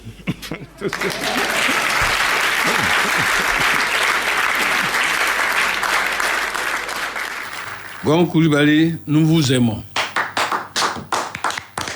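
Dense, loud audience applause fills a Radio Côte d'Ivoire special broadcast for Gon Coulibaly for several seconds before fading as a voice starts speaking.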